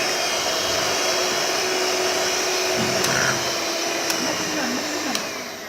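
An electric hand mixer whips egg whites into meringue in a home kitchen, a steady loud whirring drone throughout, with a faint voice and a few small clicks near the end.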